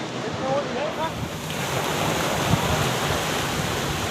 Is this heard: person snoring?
no